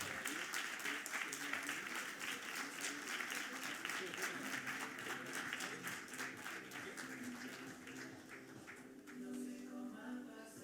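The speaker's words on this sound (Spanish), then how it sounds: "Un fort aplaudiment." Steady, dense applause from an audience, many hands clapping continuously and fading slightly toward the end.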